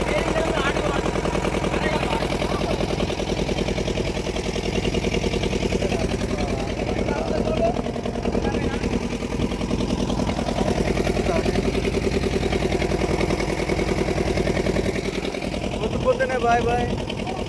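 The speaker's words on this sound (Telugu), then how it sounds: "బోట్ షికారుకి వెళ్ళాము. బోటులో ఎక్కి అవతలోటికి వెళ్తున్నాం" A motor boat engine drones steadily throughout a boat ride, a continuous low mechanical hum with people talking over it.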